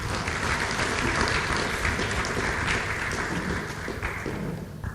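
A lecture audience applauds steadily, a dense, full wash of clapping that holds for several seconds before thinning slightly at the end.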